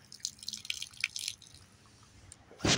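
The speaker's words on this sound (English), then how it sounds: "Poured a little bit for my man Kevin" Liquor is poured onto the ground as a quick run of splashy drips and spatters, close and uneven, ending with a louder splash.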